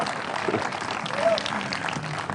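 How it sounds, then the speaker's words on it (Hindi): A studio audience at a cricket talk show applauds in a steady, dense patter of many hands. The clapping sounds moderately loud throughout and is partly mixed with a presenter's voice. "अच्छा, यहाँ तालियां बहुत बज रही हैं इस बात पर कि इंडिया को कभी हरा नहीं पाया पाकिस्तान वर्ल्ड कप में"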